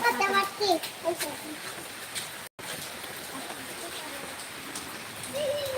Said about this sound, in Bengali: আমাদের চট্টগ্রামের মধ্যে বৃষ্টি হচ্ছে আজকে চার পাঁচ দিন ধরে একদম অনবরত